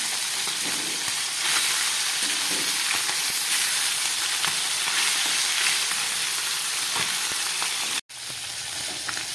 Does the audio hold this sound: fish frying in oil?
yes